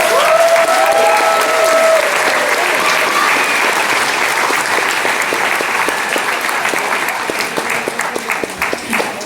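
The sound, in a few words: audience applause for graduates at a commencement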